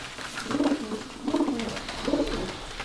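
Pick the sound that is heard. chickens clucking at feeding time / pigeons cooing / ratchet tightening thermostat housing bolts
pigeons cooing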